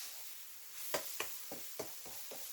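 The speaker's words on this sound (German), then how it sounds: "eine gepresste Knoblauchzehe vorsichtig anbraten, geschnittene Shiitake-Pilze hinein" Pressed garlic and sliced shiitake mushrooms fry gently in a pan, a soft steady sizzle punctuated by several sharp crackling bursts as the pieces are stirred or turned.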